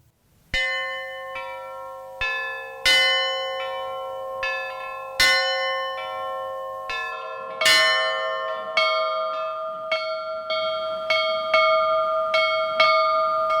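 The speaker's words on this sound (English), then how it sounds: "These bells are not just ringing here in Emmitsburg, Maryland at the National Fallen Firefighters Memorial." Memorial bells at the National Fallen Firefighters Memorial in Emmitsburg, Maryland ring out one clear, resonant strike after another. The tones overlap and hang in the air.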